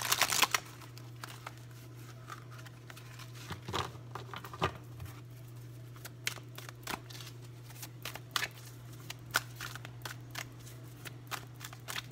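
Tarot cards are shuffled by hand in bursts of soft riffling and tapping, spread irregularly over a steady low electrical hum, with no talking.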